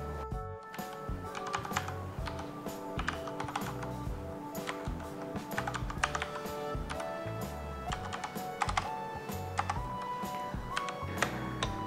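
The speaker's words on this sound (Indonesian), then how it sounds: "FEM Channel memilih Cherry MX Bronze. Dari sisi feel mengetik, tidak banyak perbedaan dengan Shine 4 yang juga seri Cherry MX Bronze" Steady, brisk typing on a Ducky Shine 5 mechanical keyboard fitted with Cherry MX Bronze switches, its dense clicky keystrokes running continuously and close up with no voices.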